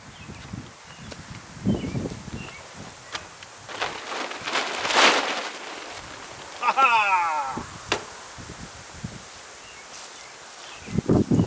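A tarp is pulled off a batch of new Leach treadle pottery wheels. It gives loose rustling and crinkling with a louder swish midway, plus scattered thumps and a brief bit of speech.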